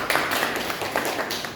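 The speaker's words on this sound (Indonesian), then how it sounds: "beri tepuk tangan untuk penanya kita." An audience claps for a questioner at an Indonesian Pancasila ethics discussion, a steady spread of many hands patting together at moderate loudness, continuous for the whole moment with no voices over it.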